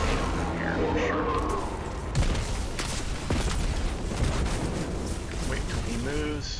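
Repeated booming rocket blasts and gunfire in the sci-fi shooter Destiny 2, during a solo Nightfall run as a Stormcaller Warlock, loud and dense over a continuous battle din with game voices and someone talking throughout.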